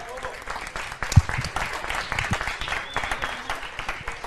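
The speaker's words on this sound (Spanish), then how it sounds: "Bienvenida, aplauso." An audience at a Spanish-language tech evening on the collaborative economy and smart cities applauds to welcome a speaker, a steady wash of clapping from a room full of people with one sharp clap standing out.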